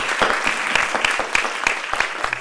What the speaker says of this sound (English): Round of applause for Palak.